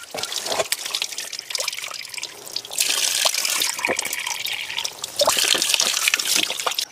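Water trickling and splashing steadily from a village water source in a rural Uttarakhand village, heard close and continuous with some rises in flow.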